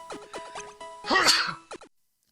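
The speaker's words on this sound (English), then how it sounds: "I'm sorry, I sneezed." A single sharp sneeze bursts out loudly and close, preceded by a few brief vocal sounds and followed by quick silence.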